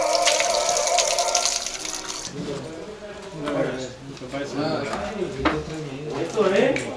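Cool water runs steadily from a tap outdoors in Spain on the opening day of quail hunting season, a broad rushing stream at first, then quieter under people talking nearby.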